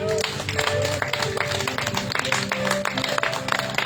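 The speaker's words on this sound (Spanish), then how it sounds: "Fuerte aplauso al Señor, hermano" A church congregation claps during a worship service, rhythmic hand claps over a continuous murmur of voices, with a sustained musical note from an instrument underneath.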